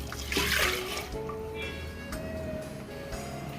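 A brief splash of water pours into a pressure cooker of lentils at the start, then a steady low hum continues with faint clinks.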